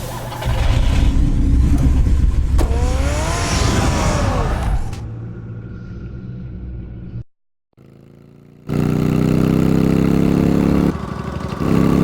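The Batmobile from the Batman Telltale video game, a loud engine roar and rumble with a rising whine, dropping to a lower hum, a brief silence, then a strong steady engine drone.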